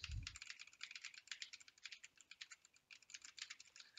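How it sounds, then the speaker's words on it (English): Rapid clacking of a mechanical keyboard being typed on, steady and close, with uneven bursts of keystrokes and no voices. "So first I will start by banging on my mechanical keyboard"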